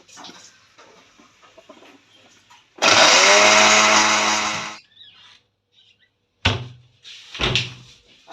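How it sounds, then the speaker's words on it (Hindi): A blender grinding vegetables with water, starting with a loud whirring roar for about two seconds and then stopping, followed by scattered clunks and handling noises. "पानी डाल देंगे ताकि ब्लेंडर चल सके"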